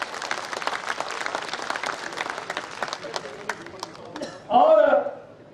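An audience at a 16th annual ceremony in Sujanpur claps in a dense, lively burst of applause that thins out toward the end, followed by a louder, brief swell of crowd noise.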